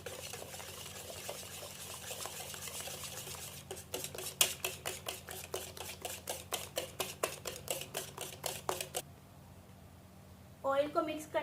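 Oil being stirred into sugary cake batter in a bowl: soft mixing at first, then a steady run of rapid rhythmic utensil scrapes and clinks against the bowl, stopping abruptly, with a brief clatter at the end.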